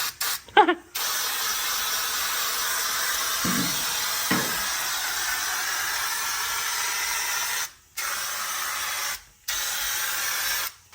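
Spray paint can hissing in long steady bursts with brief pauses between, loud and close, during a budget hot rod build of a 1957 Chevy with a 327 engine.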